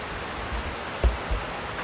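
River flowing behind a house, a brief, steady broadband rush of water with a couple of faint low thumps.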